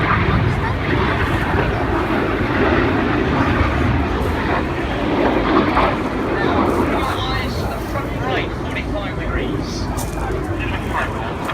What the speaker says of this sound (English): Now here goes the fifth jet, rolling around them a dozen times.